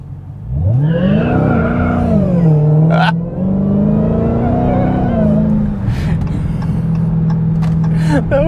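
A 2023 Dodge Challenger Black Ghost on all-season tires accelerating hard in automatic mode, its engine roaring loud and close as the pitch climbs, dips at a gear change and climbs again, then holds a steady high drone.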